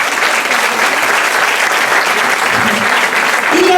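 Audience at a burlesque cabaret show claps steadily and loudly throughout, a dense continuous applause with no voices standing out.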